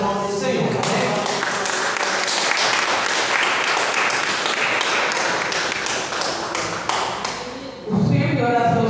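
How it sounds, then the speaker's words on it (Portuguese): A church congregation at a healing and deliverance service claps in a strong, steady rhythm, loud and close, until a voice returns near the end. "as palmas agradecem o nome do Senhor"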